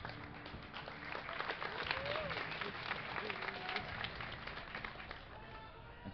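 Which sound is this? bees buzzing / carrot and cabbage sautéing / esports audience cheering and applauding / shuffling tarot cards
esports audience cheering and applauding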